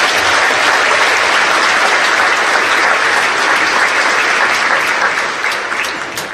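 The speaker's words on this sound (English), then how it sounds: "let's give our innovation team a big round of applause" Large audience at a mayor's State of the City address applauding the city innovation team, a dense, loud, sustained roar of clapping that fills the hall and begins to fade near the end.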